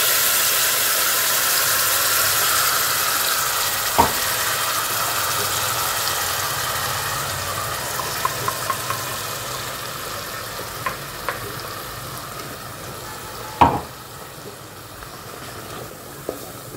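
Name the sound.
spices frying in ghee, stirred in pan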